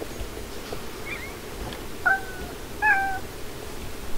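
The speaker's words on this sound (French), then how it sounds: "Et voici le chat de l'enchantement d'ambre." An amber enchantment cat in the video game Star Stable Online gives a few short meows over a steady background hum.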